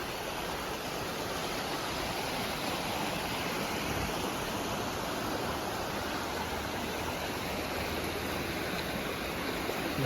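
A stream beside a trail on Table Mountain in Washington rushes steadily and fills the air with a dense, continuous wash of flowing water, close and even throughout, with no voices.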